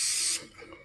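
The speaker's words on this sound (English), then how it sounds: "Let's get my little spray here." A short, close burst of hairspray being sprayed onto hair: a bright, loud hiss lasting about a third of a second that cuts off abruptly into quiet room tone.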